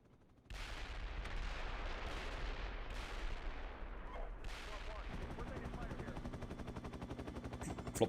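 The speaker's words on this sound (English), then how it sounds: "Catching artillery right to my front, backing up." Artillery fire in the tank simulator Steel Beasts Pro: a sudden loud onset of rumbling explosions and rapid gunfire that keeps booming close by, with a steady low engine drone beneath.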